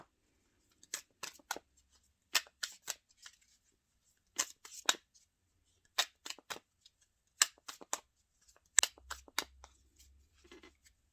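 Tarot relationship cards for a Scorpio love reading are shuffled in quick riffling bursts, close and crisp, repeating in short clusters separated by brief pauses, with no talking.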